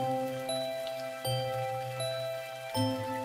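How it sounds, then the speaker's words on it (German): Cartoon rain for toddlers, heard as soft scattered drip and tinkle sounds with sharp pitched chimes repeating roughly every second or so, fairly quiet and with no talking. "Es regnet."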